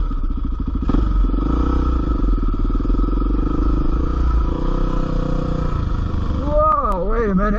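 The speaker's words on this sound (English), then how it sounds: "But this is a motorcycle, so I think I can make it right on through there." A close motorcycle engine chugs and revs while rattling clatter suggests a bumpy ride, ending with the pitch swooping up and down.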